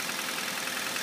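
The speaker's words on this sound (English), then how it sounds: "engine test. 2003 Honda Civic Hybrid." A 2003 Honda Civic Hybrid engine idling on a test, with 120,863 miles on it: a steady, even mechanical hum with faint regular knocking, close up and alone, without talk.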